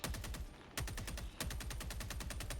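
Rapid automatic gunfire at a robot in a video game, loud repeated bursts of fast shots with two brief breaks between volleys.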